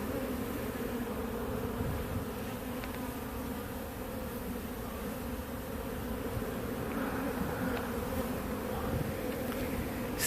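Many honeybees fly around the site of a removed hive, making a steady, dense buzzing hum that stays loud and even for the whole stretch, with individual bees passing close now and then and no talking.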